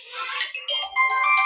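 A mobile phone rings with an incoming call, a melodic electronic ringtone playing steadily and fairly loud indoors with no talk over it.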